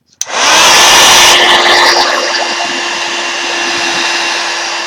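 A hair dryer blows steadily to dry wet paint, switching on with a click and then running as a loud continuous whoosh for several seconds, easing slightly in level partway through.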